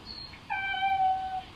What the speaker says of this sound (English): Today's the first day that he's sitting by the windows and meowing.